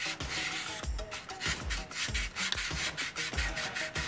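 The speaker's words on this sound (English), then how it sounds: "just rubbing this sponge over the surface, don't apply a lot of pressure" A Tamiya 3000-grit sanding sponge is rubbed lightly over the surface of a MiG-29 scale model, making soft rhythmic rasping strokes about twice a second, close up and continuous, with no speech.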